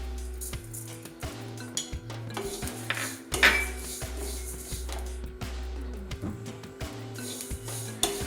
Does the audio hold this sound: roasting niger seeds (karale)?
yes